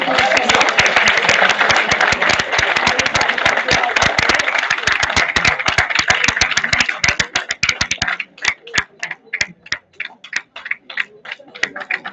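Audience applause at a national seminar, dense sustained clapping for about eight seconds that then thins into scattered individual claps as it dies away.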